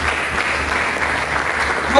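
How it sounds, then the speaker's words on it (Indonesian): Congregation applause fills a church service, a steady dense clapping wash lasting the whole moment, fairly loud with possible faint voices beneath. "Mari kita berikan tepuk tangan bagi Yesus."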